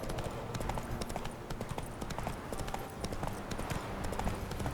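Horse hooves clip-clop steadily at a riding pace through The Witcher 3, a continuous rhythmic clatter that runs loud and close from start to finish.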